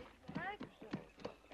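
A horse's hooves clip-clop in an irregular rhythm in an Old West town at the sheriff's, faint and a little distant, as people talk over the top of the steps.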